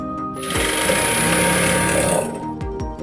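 A sewing machine stitches a designer sleeve with a half-inch seam, running in a steady loud whir for about two seconds between quieter starts and stops.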